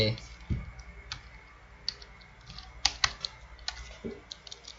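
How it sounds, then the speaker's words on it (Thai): Sparse keystrokes and clicks on a computer keyboard, close, in short irregular taps with a quiet background, and someone speaking briefly at the start. "แล้วก่อนนะ พิมพ์ก่อน"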